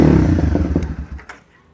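A used sport motorcycle idles at low RPM, a close, smooth, steady engine rumble that tapers off and falls quiet near the end.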